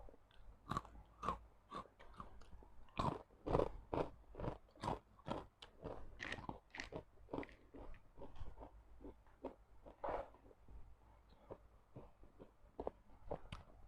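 Crispy baked vegetable and fruit snacks, including purple sweet potato, get bitten and chewed up close, a quiet series of sharp, irregular crunches and crackles in steady succession with no talking.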